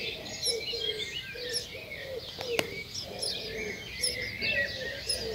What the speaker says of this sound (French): Là vous entendez, il y a des petits oiseaux là.